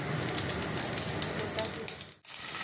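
Bay leaf, dried red chilli and cumin sizzle in hot mustard oil, a soft, continuous crackling hiss heard close but fairly quiet.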